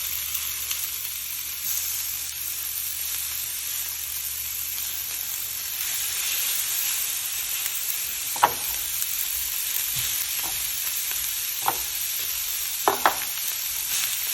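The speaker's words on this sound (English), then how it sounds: "It's okay if it's a little frozen, because you kind of want some of that little liquid, and it'll break up more and more that it cooks." Partly frozen beef for a Philly cheesesteak sizzles steadily in a hot pan, a continuous hiss broken by a few soft scrapes and taps of stirring.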